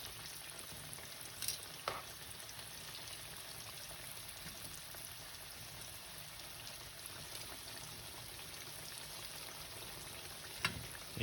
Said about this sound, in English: And here we got a good sizzle on it.